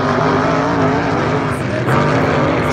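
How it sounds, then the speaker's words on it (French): A Hydro 350 class hydroplane racing boat engine drones at low revs during a race heat at Beauharnois, a rough mid-range hum with slight surges, heard over a French-speaking commentator's voice. "On entend le moteur à faible régime."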